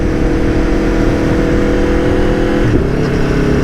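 An Aprilia Tuono V4 1100 motorcycle accelerates hard in a loud, close, steady engine roar. One quick-shifter gear change breaks the note briefly near the end.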